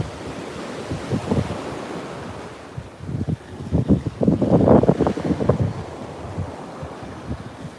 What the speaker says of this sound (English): The beach report wants you to feel like you are at the beach.